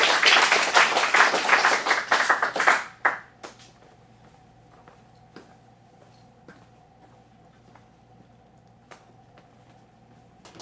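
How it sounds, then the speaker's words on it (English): Short burst of audience clapping for an adult acting studio's Steel Magnolias scene showcase, lively for about three seconds and then cutting off into a quiet room with a few faint knocks. "Round of applause for Steel Magnolias."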